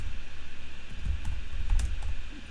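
Computer keyboard typing during a video game session, a quick run of soft, close keystroke clicks over a low steady background hum, with no talking.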